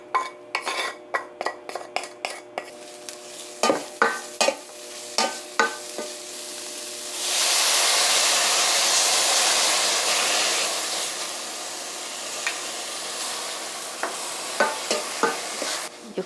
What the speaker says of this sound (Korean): 황태를 넣어줍니다.